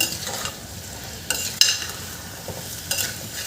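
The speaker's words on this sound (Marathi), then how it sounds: "आता हे तांदूळ आपल्याला छान यामध्ये असे परतून घ्यायचे आहेत" Soaked rice is stir-fried with vegetables in a pan to make green pea pulao. A soft steady fry hiss runs under repeated scraping stirs, with a few sharper clinks of a spoon against the pan.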